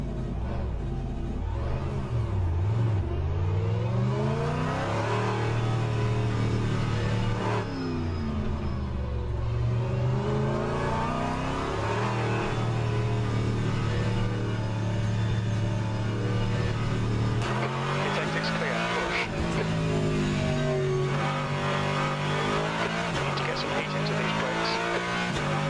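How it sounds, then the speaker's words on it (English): A Corvette race car engine in rFactor 2 drones and rises through the gears, pitch sweeping up and dropping with each shift, loud and sustained, with occasional rumble and tire noise. "the Corvette engine is so loud"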